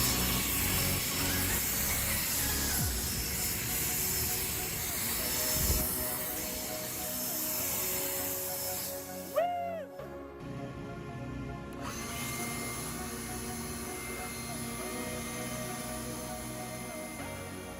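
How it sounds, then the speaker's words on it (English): Ego 650 CFM battery leaf blower running with a steady, loud whooshing airflow and a high whine, briefly cutting out and restarting partway through before carrying on evenly. "For comparison, let's check out the Ego 650 CFM blower."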